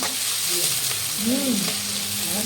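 Chicken frying and sizzling in a pan for chicken biryani, a steady loud crackle with stirring throughout and no voice over it.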